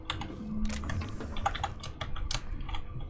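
Rapid keyboard typing and mouse clicks while playing The Outer Worlds on PC, a dense run of close clicks and key taps over a low background hum, with no speech.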